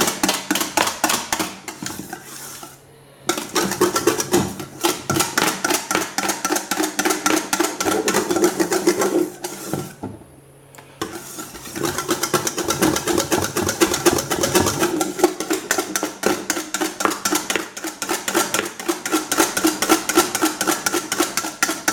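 Electric whisk beating a deep, thick black chocolate mousse, a steady rattling whir with a rapid clicking texture that stops briefly twice before carrying on, close and alone without talk.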